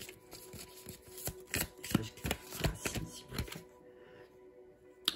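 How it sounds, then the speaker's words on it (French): Tarot cards are shuffled and laid out: a quiet, close run of crisp riffling and snapping card flicks at an uneven rhythm, then softer placements on a surface, with no voice. "Je vais mettre toutes les cartes."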